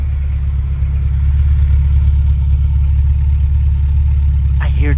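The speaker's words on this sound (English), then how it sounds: "I hear just the slightest, maybe the slightest misfire" A Porsche 944 engine idles steadily nearby with a low, even rumble and the slightest hint of misfire in its rhythm. A brief voice comes in near the end.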